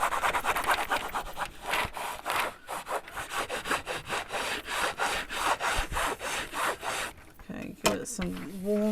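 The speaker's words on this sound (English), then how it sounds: "Drop it down, give it a good rub." A Cricut craft transfer being rubbed onto an object makes a rhythmic back-and-forth scraping, many quick strokes in steady succession, close-up, ending in a few handling noises.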